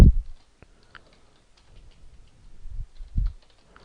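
Sparse, quiet keyboard clicks tapping out a short burst, with a few louder low thumps near the start and end in a quiet room.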